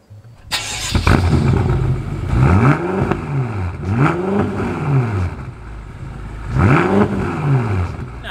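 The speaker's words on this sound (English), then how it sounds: "you get the BMW nicer, sexier sounding exhaust. This sounds really fantastic, so take a listen to this." A 2017 BMW M6 Competition with its twin-turbo V8 fires up and revs through its exhaust, loud and close, with three rising-and-falling revs spaced a few seconds apart over a steady idle.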